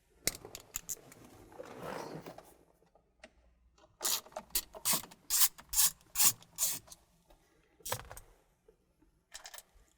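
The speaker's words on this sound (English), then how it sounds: "So we just have to get that up out of the way, exposing 2 10mm Torx bolts. We'll remove those." A ratchet removes two 10mm Torx bolts from a Ford steering column, with bursts of quick, close clicking separated by pauses and some rustling handling noise.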